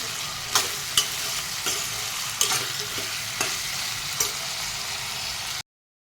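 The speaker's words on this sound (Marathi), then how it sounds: "बटाटा ते पण आपण टाकून घेऊ आणि मस्त ह्याला पण थोडंसं आपण तेलामध्ये फ्राय करून घेऊ" Potato and cauliflower pieces fry in oil in a pan, a bright steady sizzle with a handful of sharp stirring clacks spaced through it, close up, ending in abrupt silence.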